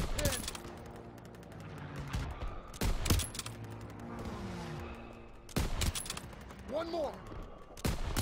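Gunfire in the World War II shooter Call of Duty: WWII comes in sharp bursts spaced a few seconds apart, between shouted voices and battlefield noise.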